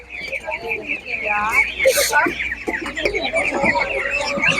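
Hens cluck in short bursts at a village animal market where poultry is sold, the calls mixed with nearby voices and market bustle.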